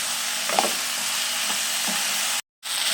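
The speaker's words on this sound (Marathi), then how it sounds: "आता आपल्याला हे चांगलं फ्राय करून घ्यायचं आहे" Sweet potato sizzles and fries in a pan, a steady crackling hiss with a few soft stirring clinks, broken by a brief moment of silence near the end.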